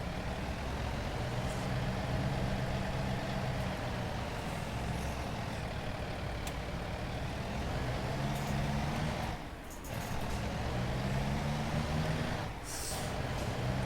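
A loaded tire-hauling semi truck releases its brakes and pulls out on a route from Pendleton, Oregon toward Colville, Washington, its steady diesel rumble filling the whole stretch, dipping briefly with a couple of short air-like hisses.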